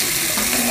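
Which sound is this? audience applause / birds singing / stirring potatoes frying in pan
stirring potatoes frying in pan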